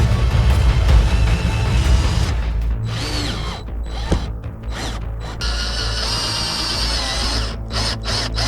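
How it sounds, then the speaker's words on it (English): Power drill driving screws to fasten a wooden frame to a plastic roof fan frame in a campervan, loud whirring and ratcheting bursts up close, the motor revving and stopping in uneven spurts. "I need to put the wooden frame that we made underneath and screw it together with the plastic."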